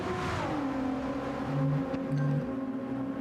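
A race car crosses the line at Fuji during qualifying, its steady engine tone dropping in pitch as it passes, then droning on at a moderate distance with a faint rise and fall.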